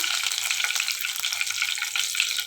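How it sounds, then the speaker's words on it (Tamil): Fennel seeds and bay leaf hit hot oil in a preheated kadai, giving a dense, continuous, fairly loud hissing sizzle with no pauses and no voices. "இப்போ தேவையான அளவு எண்ணெய் ஊற்றிக்கிடுவோம். சோம்பு, பிரியாணி இலை"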